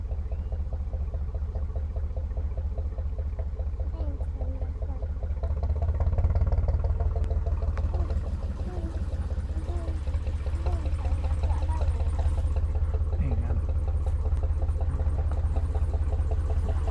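A narrow boat's engine idles and chugs steadily as the boat leaves a lock at a barrage near Norton, Stoke-on-Trent, a low continuous throb with water churning, rising slightly midway.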